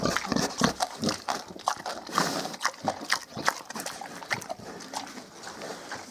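Mangalica piglets grunt and squeal in short, irregular bursts, close up, with rustling and shuffling between the calls.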